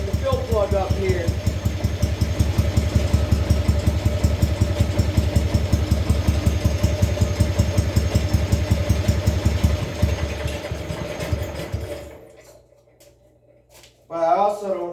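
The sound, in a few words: engine idling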